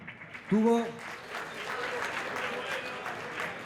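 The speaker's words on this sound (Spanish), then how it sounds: "ese aplauso para Manolo" At a fiftieth-anniversary gathering of a festival brotherhood, a voice rises briefly before an audience breaks into warm, sustained applause, fairly distant and even.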